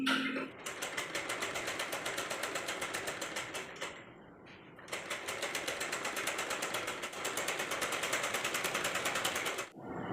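A sewing machine stitches a blouse in steady, rapid bursts of needle clatter, pausing briefly near the four-second mark and again near the end, close and fairly loud with no talking.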